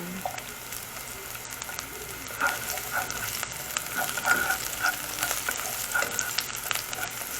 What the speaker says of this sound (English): We stir the garlic first. Then we add the onion. That's a white onion.